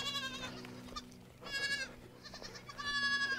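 Goats on a farm bleating repeatedly, several wavering nasal calls in quick succession, some near and some a little farther off, against quiet background.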